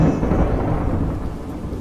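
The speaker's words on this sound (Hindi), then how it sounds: "गांव में तूफान आने की वजह से सब कुछ तबाह हो जाता है।" A thunderstorm rolls over a village, with deep rumbling thunder and steady rain filling the whole stretch, loud and continuous, with no voices.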